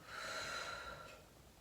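A single soft breath pushed out through the mouth during a guided breathing exercise in a stretching session, a faint airy hiss lasting under two seconds with no talking.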